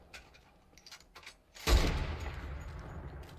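Gunfire in Fortnite, a sudden loud burst of rapid shots or an explosion erupting after scattered quieter clicks and thuds, then a sustained rumbling decay.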